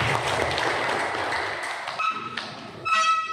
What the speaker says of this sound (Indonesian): Aplaus untuk LPKPK.